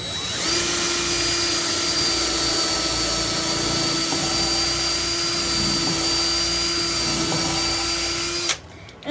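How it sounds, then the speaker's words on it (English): An electric drill pre-drills a hole in pallet wood, a continuous high whine held steady for several seconds before cutting off abruptly near the end. "So we're gonna take our drill"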